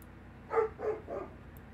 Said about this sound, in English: my dog's barking is because she's lonely